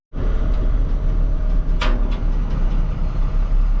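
A Ford F650 small dump truck drives along a street, its engine droning steadily and loudly up close with a constant low rumble and a brief bright clank partway through; no one speaks.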